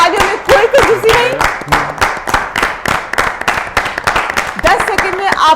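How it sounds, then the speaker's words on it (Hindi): A small group at a sports quiz show claps rhythmically in a steady beat while a person talks over the applause. "जोरदार तालियां, तालियों में कोई कंजूसी नहीं।"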